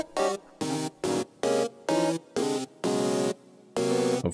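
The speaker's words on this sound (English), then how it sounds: "I'm using a Serum preset from the pack, and this one's called Abrasive. Sounds a bit like this." An abrasive, harmonically rich synth preset in Serum, played in FL Studio as a run of short, evenly spaced stabs and a few longer held notes, loud and with nothing else around it.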